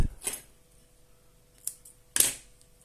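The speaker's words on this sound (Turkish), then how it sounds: "fazlalık ipimi kesiyorum" Scissors snip excess yarn from a knitted slipper, with three sharp, separate cuts close up against a quiet background.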